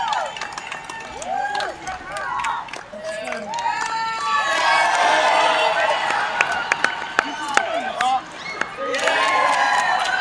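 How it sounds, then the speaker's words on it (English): Crowd at a junior sport stacking championship cheers and shouts loudly and steadily, with high excited voices, whoops and an announcer's voice over the din. "The cheers are insane, absolutely erupting from the crowd."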